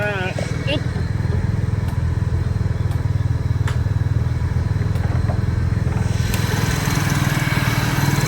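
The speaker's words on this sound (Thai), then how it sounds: "เครื่องยนต์เดินนิ่งๆเรียบๆเลยนะครับผม" Honda Accord with automatic gearbox idling in its engine bay, a steady close low hum with even pulsing throughout, with someone talking over it.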